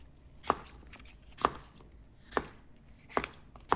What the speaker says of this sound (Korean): 씨를 제거했다면 오이는 먹기 좋은 크기로 썰어 주시고요